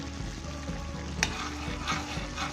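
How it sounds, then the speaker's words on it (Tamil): Grated coconut being stirred through hot sugar syrup in a pan for coconut burfi, a soft continuous scraping and faint sizzle with a couple of brief louder clinks of the spoon against the pan. "தேங்காய் பூ போட்டு இந்த மாதிரி நல்லா கிளறி விட்டுக்கிறணும்"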